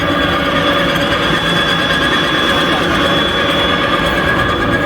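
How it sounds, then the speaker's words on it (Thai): A loud, steady mechanical whine and buzz from a push-cart style grass cutter running continuously at close range, with no pauses. "ตัวนี้เป็นเครื่องตัดหญ้านะครับ"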